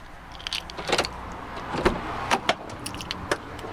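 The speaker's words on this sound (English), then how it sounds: "use the key, locks the car, but disables the interior sensors" A Land Rover Discovery 2 is locked with the key, giving a few sharp clunks and short whirring actuator bursts spread over several seconds, fairly close and quiet, with no talking.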